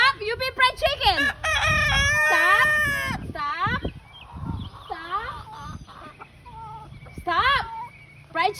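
Rooster crowing loudly and repeatedly close by, several long harmonic crows overlapping with a person shouting and talking excitedly throughout.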